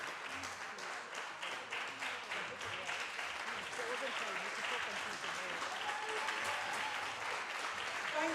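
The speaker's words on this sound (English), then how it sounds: "shall we give you the applause that you deserve?" An audience at a theatre dialogue event in Kenya claps in sustained, even applause that fills the room, with voices faintly under it.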